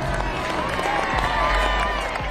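A large crowd at the rollout of the Northrop B-2 bomber makes a dense, steady murmur with scattered clapping and cheering, loud and close throughout.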